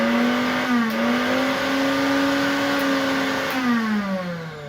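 An electric mixer grinder motor runs steadily on mains power, a strong humming whine that rises and dips slightly in pitch and stays loud and close throughout, with no talking.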